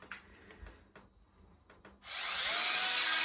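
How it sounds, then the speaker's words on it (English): Electric spin scrubber fitted with a hard bristle brush, a few scattered knocks and handling clicks first, then the motor switches on at about two seconds into a loud, steady, close whirring scrub. "it's just gonna be a hard press and then on the power button to get it to go"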